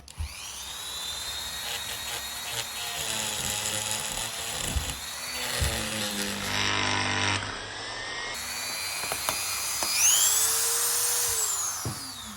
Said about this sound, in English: I'm going to try and use this little grinder.